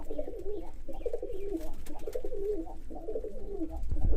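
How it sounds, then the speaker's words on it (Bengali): A male Giribaj pigeon coos repeatedly in a steady rhythm of soft throaty phrases, close and clear, with no talking. "আমার পাগলা নরটা গিরিবাজ নরটা কেমন ডাকাডাকি করে"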